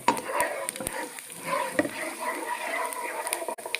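Whole cloves, black cardamom pods, fennel seeds and almonds frying in oil in a pot, a steady close sizzle with light stirring scrapes and small pops throughout.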